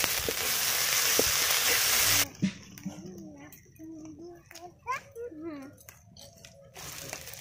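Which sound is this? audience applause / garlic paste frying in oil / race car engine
garlic paste frying in oil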